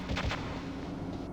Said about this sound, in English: I've had a game over by getting shot by that gun turret